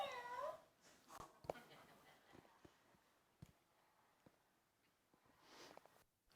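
A cat meows near the start and again toward the end, faint and somewhat distant, with scattered clicks and knocks in a quiet room between the calls.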